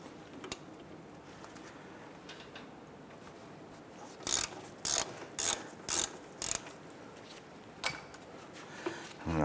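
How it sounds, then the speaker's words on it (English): Ratchet clicking in short bursts while loosening the brake caliper bracket bolts on a 2008-2012 Honda Accord, several quick ratcheting strokes close up after a quiet stretch of faint shop background. "let's go ahead and remove our two brake caliper bracket bolts."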